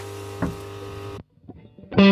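An electric guitar plays through a modified Tube Screamer overdrive pedal, a sustained distorted chord ringing for about a second, then stopping abruptly, followed by soft string noises and a loud new distorted note.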